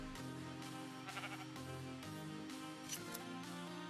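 Drawn-out, wavering sheep bleats in the modded game Botania ++ over a steady, sustained electronic background, repeating without pause.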